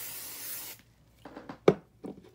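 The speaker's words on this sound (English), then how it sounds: "spray it" A quick burst of hairspray hisses onto freshly curled hair, loud and close for under a second, followed by faint rubbing and handling sounds.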